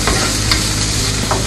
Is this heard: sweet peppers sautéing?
yes